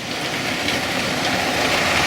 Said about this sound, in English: Now I've started the trains off